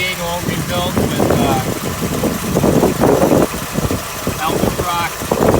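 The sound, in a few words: Jeep CJ-7 rebuilt 304 V8 engine idling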